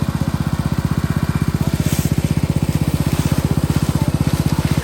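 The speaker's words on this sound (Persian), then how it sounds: "با استفاده از اون موتور آب به اون بیجار آب میده" A small water pump engine irrigating a rice paddy chugs loudly and steadily nearby, its rapid, even thumping unbroken throughout.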